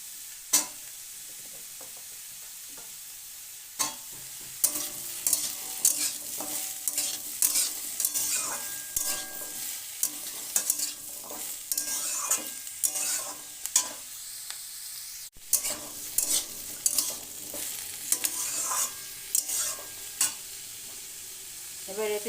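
Bitter gourd, potato, carrot and pumpkin stir-fried in a pan, repeated scraping and stirring strokes of a spatula over a low sizzle, close and irregular, with no talking.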